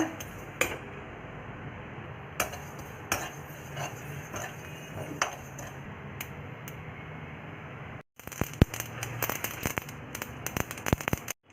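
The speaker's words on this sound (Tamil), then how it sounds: "ஒரு கப் போல் எள்ளை எடுத்து வறுத்துக்கோங்க" Sesame seeds, about a cup, crackling and popping as they dry-roast in a pan, a steady bed of fine close crackle with sharper ticks and utensil scrapes, growing busier and brighter near the end.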